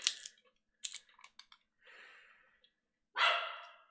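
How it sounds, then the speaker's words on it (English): A dog barks in loud, sharp bursts, a quick cluster of yaps at the start, another run of barks after a pause, then a drawn-out, rough bark near the end, close and with no talk. "We're just going to wait for him to stop barking."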